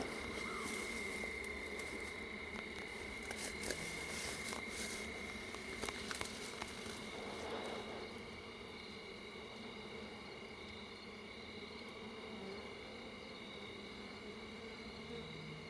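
Honey bees buzz steadily around their hives throughout, a dense insect drone that stays level from start to finish with no voices over it.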